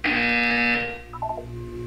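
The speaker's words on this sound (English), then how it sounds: "You will hear a buzzer." A harsh electronic buzzer sounds in the video game Portal 2, blaring loud and steady for most of a second before cutting off, followed by a few short tonal blips over a low hum.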